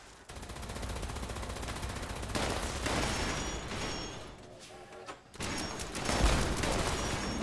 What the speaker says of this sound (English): one of the cool things about the Gatling laser is it does draw attention to where I'm firing